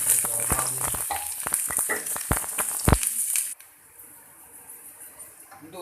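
Onions hit hot oil in a pan and sizzle with a bright, hissing crackle, punctuated by a few knocks of a stirring spoon, before the frying fades to a quieter hiss.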